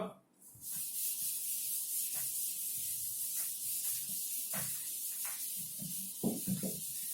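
A duster rubbed steadily across a classroom board to wipe away written points, a continuous close scrubbing hiss with a few soft knocks and brief murmurs of a voice near the end.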